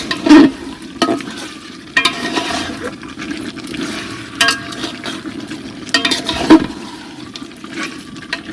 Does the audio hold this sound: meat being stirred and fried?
yes